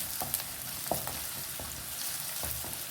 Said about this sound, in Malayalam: ഇഞ്ചി ഇട്ട് വെളുത്തുള്ളി ഇട്ട് നല്ലോണം വഴറ്റാൻ വയ്ക്കാം